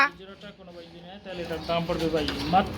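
Pigeons at a pigeon sale coo in soft, repeated throaty calls, nearby and steady, under ongoing conversational speech.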